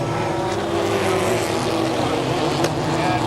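Racing truck engines roar continuously at KilKare Speedway, a steady loud drone of several motors passing around the track with no pause.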